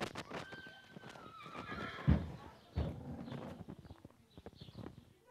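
A horse whinnies several times near a livestock trailer's loading ramp, its calls mixed with clip-clop hoof steps on a hard surface, fairly close and loud with no talk over them.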